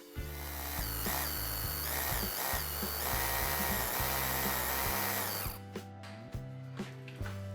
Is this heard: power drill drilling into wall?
yes